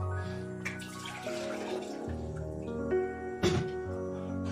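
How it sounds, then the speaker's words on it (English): About half a liter of water pours into a cooking pot, a ringing, gurgling stream that rises in pitch as the pot fills and ends in a few louder splashes. "Put around half a liter of water in it,"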